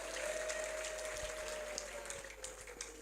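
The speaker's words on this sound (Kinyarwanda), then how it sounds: "Amashyi menshi ku Mana yacu yarakoze." Faint, continuous applause from a church congregation heard at a distance, a soft wash of clapping over a steady low hum.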